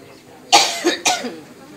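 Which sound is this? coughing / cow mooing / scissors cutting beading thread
coughing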